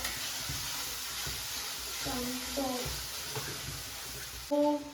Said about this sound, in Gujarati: લગાઈ ડુંગળી પણ નાખી દીધી.